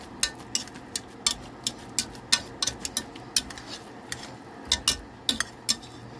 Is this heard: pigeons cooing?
no